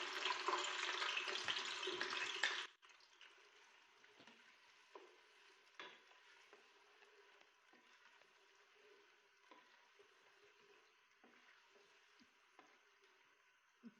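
Sliced onions in about a cup of oil fry in a pressure cooker: a loud burst of sizzling that cuts off sharply, then soft stirring clinks and a faint, quiet sizzle.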